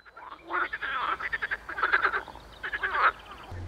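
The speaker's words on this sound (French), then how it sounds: "on se laissera bercer par le chant des grenouilles" Several frogs croak at night in Auvergne, sending out close, pulsing rattles that overlap and come in quick bursts. The calls fill the whole stretch and nothing else sounds.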